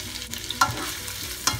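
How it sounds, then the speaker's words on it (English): Prawns, cooked or uncooked, sautéing in a pan with garlic for creamy broccoli pasta, giving a soft, steady sizzle with a couple of sharper scrapes or clinks as they are stirred; no talking. "Saute it for a few seconds."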